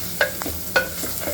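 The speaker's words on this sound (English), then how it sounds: "Now I'll add 1 medium-sized chopped onion and we'll cook it till transparent" Chopped onion sautéing with garlic in a pot for masala khichadi, a steady sizzle broken by two sharp spoon scrapes and lighter stirring taps, close and alone.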